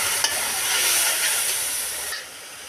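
Onion and spice masala sizzles loudly in a pan as hot water hits it, a dense steady hiss that eases off near the end.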